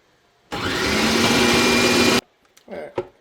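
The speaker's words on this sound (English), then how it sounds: "we're just going to go ahead and grind it all up" An electric meat grinder churns meat and fat for homemade dog food in one loud, continuous motor whir lasting under two seconds, then cuts off abruptly, followed by a few faint clatters.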